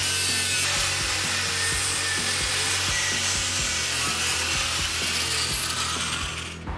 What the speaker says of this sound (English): we're going to take a little slitting disc and just cut the bulk of the floor out